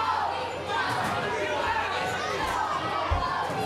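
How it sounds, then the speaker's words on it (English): Capacity wrestling crowd cheering and chanting for wrestler Tony Fury, a continuous loud roar of massed voices with rhythmic thumps underneath. "Listen to this capacity crowd going crazy for Fury"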